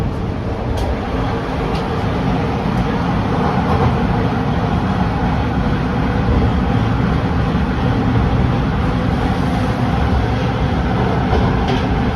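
A Line 2 Danforth subway train pulls into Coxwell Station, a loud, continuous underground roar and rumble of wheels and carriages that stays dense and unbroken throughout.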